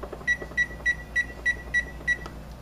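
An oven timer button gives seven short, evenly spaced high beeps about a third of a second apart, quiet against a low kitchen hum while potato wedges cook.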